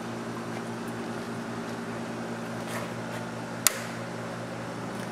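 A Bio-Rad Model 1550 microplate washer runs its rinse cycle with a steady, low mechanical hum, broken once by a sharp click near the end.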